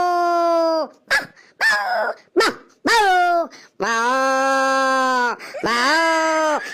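A voice imitates ten to twelve dogs barking and howling in front of a house, with a series of drawn-out, wavering bark calls and short yelps, loud and close.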